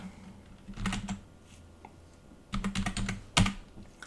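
Quick bursts of typing on a computer keyboard, two clusters of close, crisp key clicks with a pause between, entering a folder name in Fusion 360.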